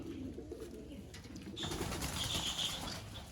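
Kiram pigeons in a loft, cooing and fluttering softly up close, with a brief burst of wing flapping and low shuffling around them, and no talking.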